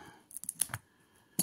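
Scissors cut open the plastic shrink-wrap on a freshly printed oracle card deck: a few short, crisp snips and crinkles close by, with a quiet pause before a final rustling burst.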